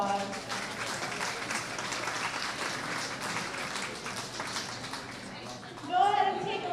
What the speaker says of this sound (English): Let's give these PBA exhibitors a nice round of applause.